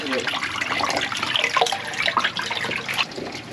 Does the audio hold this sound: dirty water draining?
yes